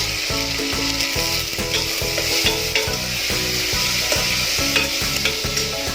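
Vegetables stir-frying in a pan for Maharashtrian masale bhat, with steady loud sizzling and repeated rhythmic scraping of a spoon stirring through the pan, close up and with no talking.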